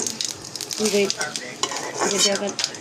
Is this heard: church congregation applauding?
no